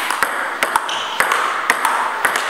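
Plastic Xushaofa table tennis ball bouncing in a steady practice rally, sharp clicks on table and paddle at an uneven rhythm, close and clear over a faint room background.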